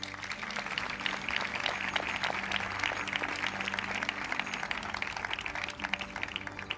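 Sustained audience applause after a youth choir's performance at a ceremony, a steady, somewhat distant wash of many hands clapping with a faint low hum underneath.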